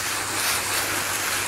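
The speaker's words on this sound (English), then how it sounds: "Now just give it a good water in," Water poured over a freshly prepared vegetable garden bed with newly sown seeds gives a steady, close broadband hiss of spray that runs evenly through the whole short stretch, with no voices.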